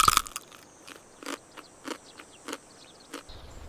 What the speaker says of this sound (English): Its signature crunch makes lotus root one of the most satisfying harvest vegetables.